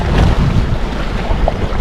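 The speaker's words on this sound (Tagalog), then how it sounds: "Medyo mahangin hindi gaya kahapon" Strong wind buffets the microphone in loud, uneven gusts at a fishing spot, with a low rushing roar and no voices.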